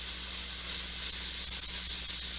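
Homemade marinara sauce with vegetables simmers on a medium-high stove while being stirred, a loud steady close sizzling hiss with faint scraping throughout.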